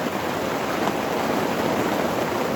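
Heavy rain pours onto a tarp during a thunderstorm, a loud, even, continuous drumming hiss close overhead with no gaps, no voices.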